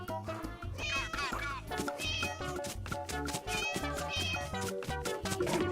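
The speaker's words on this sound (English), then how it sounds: "Cat." A cat meowing with several drawn-out wavering calls over loud background music, the meows rising and falling in pitch across the whole stretch.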